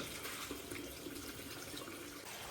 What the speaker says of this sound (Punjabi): ਅਸੀਂ ਜਦੋਂ ਵੀ ਕਣਕ ਭਿਉਣੀ ਹੁੰਦੀ ਆ ਅਸੀਂ ਧੋ ਕੇ ਭਿਉਣੀ ਆ